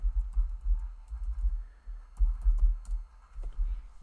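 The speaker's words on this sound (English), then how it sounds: "I'm gonna type it in right now" Someone types an email address on a computer keyboard, producing quick irregular clusters of close, crisp key clicks with short pauses between bursts.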